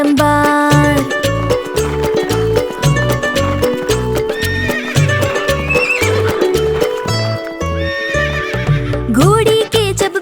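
A horse whinnies and neighs while its galloping hooves beat a steady, loud clip-clop, all set over a bright, tuneful children's rhyme melody.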